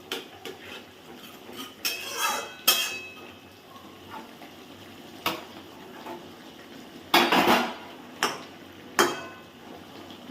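A pot of fish curry with eggplant is covered with a lid, giving several sharp metallic clanks and clinks spread across the stretch, with quieter kitchen rattling between them.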